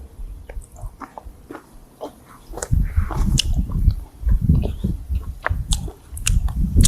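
Bamboo-cooked chicken being bitten and chewed up close, wet squishy crunching bites in an irregular rhythm that grow louder and denser midway, with no talk over them.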